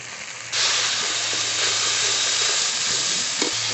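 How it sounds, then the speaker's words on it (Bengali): Ground coriander, cumin and dried red chilli paste with chopped tomato, salt and turmeric sauté in a hot pan. A splash of water sets off a sudden loud, steady sizzle that hisses on close up after a quieter start. "একটু জল দিয়ে ভালো করে কষিয়ে নেব"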